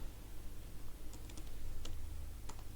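Quiet, sparse keystrokes on a computer keyboard, a few distinct clicks and short bursts of typing over a soft steady background hum.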